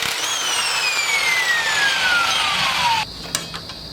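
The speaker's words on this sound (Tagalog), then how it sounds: "tanggalin muna natin tong gulong gamit tayo ng impact wrench" An impact wrench works on removing the wheel of a Honda XRM 110 motorcycle, giving a loud whirring whine that slowly falls in pitch for about three seconds before cutting off, followed by a faint click and quiet workshop background.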